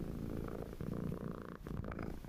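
A house cat purring close to the microphone, a continuous rumbling drone with slight rhythmic pulsing, loud and steady, with no talk over it.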